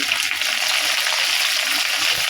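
Chopped tomatoes hit hot oil with already-fried onions for a coconut-paste taro-stolon curry, giving a steady, dense sizzle that holds evenly throughout with no voices.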